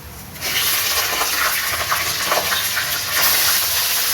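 Chicken added to a pan of lightly browned onions gives a sudden loud, steady sizzling hiss that continues strongly to the end.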